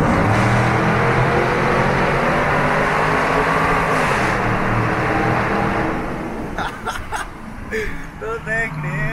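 A Porsche Cayenne S with its rear muffler removed drones loudly and deeply inside a busy tunnel. The exhaust roar fills the first six seconds, then eases to a lower rumble as a voice speaks over it.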